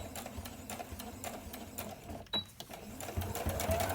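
A sewing machine stitches pleats on a fabric face mask, a fast, even mechanical chatter of the needle running close and clear, slowing slightly before picking up again.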